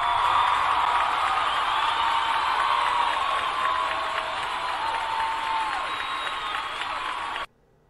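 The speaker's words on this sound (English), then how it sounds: "let's give her a round of applause" An audience breaks into loud, sustained applause with a few whoops and cheers. The sound stays steady for several seconds, eases slightly, then cuts off abruptly.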